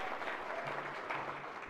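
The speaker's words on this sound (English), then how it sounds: "So if you can, give her a round of applause." Faint, steady applause from an audience in a senate chamber during a floor session, soft and somewhat distant, with a voice briefly audible beneath the clapping.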